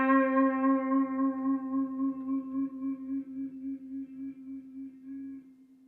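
A guitar note played with vibrato, its pitch wavering in a steady regular pulse as the tone slowly decays, heard alone and close.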